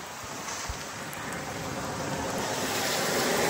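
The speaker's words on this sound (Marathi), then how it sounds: "खूप जोरात पाऊस लागला आहे." Heavy rain pours onto a road during a journey, a dense broadband roar that builds gradually and stays steady, with gusty noise and no voices.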